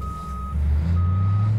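A tow truck in the BeamNG.drive video game starts up: a steady high reversing-style beep tone sounds over a low engine hum that thickens into a rumbling idle, loud and close, no speech.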